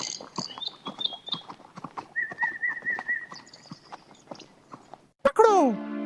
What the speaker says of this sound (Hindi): पूरे जंगल में एक अजीब सा सन्नाटा पसरा था, जिसे सिर्फ उनके घोड़ों के टापों की आवाज ही तोड़ रही थी।